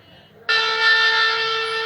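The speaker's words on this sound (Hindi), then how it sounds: "शंख की ध्वनि हुई, इसका मतलब ये हमारा स्टार्ट हो गया।" A conch shell sound plays from a talking Bhagavad Gita reading device, a loud sustained tonal blast that starts abruptly and holds steady, following a faint murmur.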